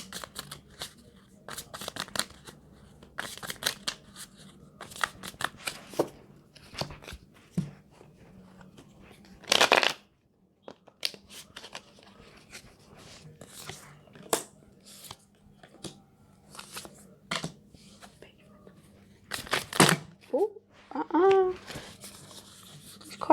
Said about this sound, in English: I'm gonna pull some more cards, y'all.